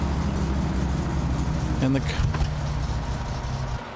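A car engine in the video game My Summer Car labors and falters, a loud low rumbling drone that sputters with a couple of pops before cutting out; a voice speaks briefly.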